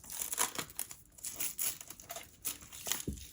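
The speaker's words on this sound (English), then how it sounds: "They wrapped this in saran wrap?" Plastic cling wrap crinkles and crackles in rapid, uneven bursts as it is pulled and peeled away from a packaged diecast car, close up.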